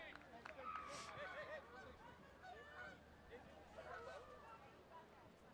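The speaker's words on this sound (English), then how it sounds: "A lot of geese over Mac Aldridge Field, right?" A flock of geese honks while flying over a soccer field during an evening high school boys' game. The calls are faint and distant above a steady murmur of crowd voices.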